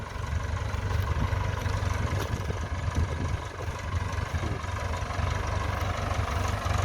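Ford 6600 tractor diesel engine working hard while plowing a wet rice paddy, a deep, throbbing low rumble that stays steady and loud throughout, close by, with no talking.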